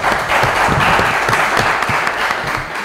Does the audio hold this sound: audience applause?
yes